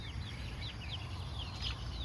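Chickens in a coop warmed by a night campfire on an oil palm plantation give soft, repeated high peeps over a steady low background, with no talking.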